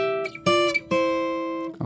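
Opening riff of a song picked on an acoustic guitar with rhythm added, a few bright plucked notes ringing out and sustaining, close and alone.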